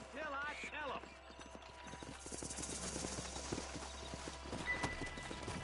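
Horses gallop in the Western video game Red Dead Redemption, with rhythmic clip-clop hoofbeats, a whinny near the start, and game sounds and voices mixed underneath.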